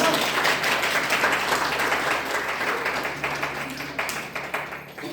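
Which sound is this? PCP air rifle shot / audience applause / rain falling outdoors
audience applause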